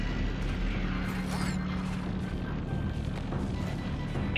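Artillery fire booms in the Helldivers video game, a dense continuous low rumble of bombardment with a sharp descending whistle partway through, heard under a voice speaking.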